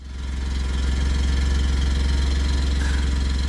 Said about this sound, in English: Every time I start the truck early in the morning, it would do that chatter sound